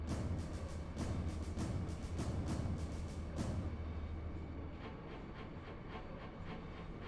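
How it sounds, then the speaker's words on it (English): A train moving in the video game Final Fantasy VIII, a steady rhythmic clatter of wheels on track with a rumbling hiss that softens partway through, with no talking. "I love how it's marked as the President's private train."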